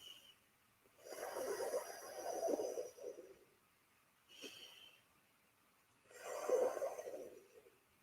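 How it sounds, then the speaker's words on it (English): Two long, soft breaths and one short one, each a breathy airy rush with a snore-like rasp, drawn in across a curled tongue and pushed out through the nose, close and quiet with pauses between. "breathing in for your tongue and out for your nose"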